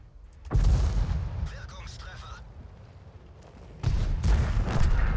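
Two loud, heavy booms from a tank gun firing high-explosive shells in World of Tanks, one near the start and one near the end, with a player talking in between.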